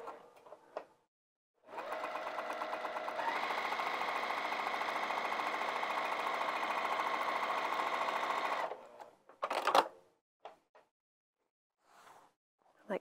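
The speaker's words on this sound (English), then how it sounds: "I'm gonna top stitch this across the top of the bag" A sewing machine top-stitches across the top of a bag in one continuous, steady, rapid hum of about seven seconds. Brief clicks and handling noises come before and after it.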